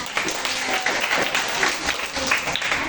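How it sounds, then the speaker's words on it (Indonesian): A class of students applauds during an Indonesian teacher-training lesson on the circulatory system. The steady clapping is close and moderately loud and lasts throughout, with some voices in the room. "tepuk tangan"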